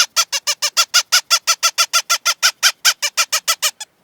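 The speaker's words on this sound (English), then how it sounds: "It's going to sound kind of like a prairie dog or something like that." A squeeze-type squaller coaxer predator call pumped in rapid, regular bursts, giving a raspy, prairie-dog-like squeal repeated about twenty times in four seconds, close and loud with no voices.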